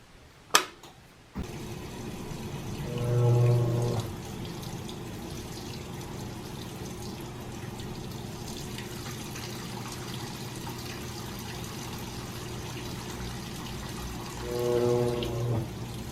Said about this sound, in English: That's as the machine is trying to figure out the weight of the items in the tub.